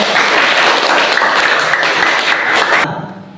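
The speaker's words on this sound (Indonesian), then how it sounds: "Oke, tepuk tangan." In a classroom, students give loud, close, continuous applause for a lesson. The clapping stays steady, then cuts off abruptly near the end.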